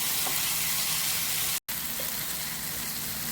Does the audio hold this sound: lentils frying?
yes